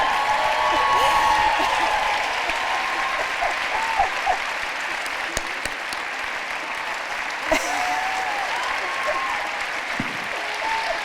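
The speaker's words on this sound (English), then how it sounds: "again, a round of applause for the Justice" An audience at a conversation event with a U.S. Supreme Court Justice claps steadily for several seconds, a dense, fairly close round of applause with a few voices rising above the clapping.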